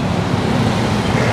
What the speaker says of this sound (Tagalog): Makakadaan ng maayos yung mga sasakyan na dumadaan dito.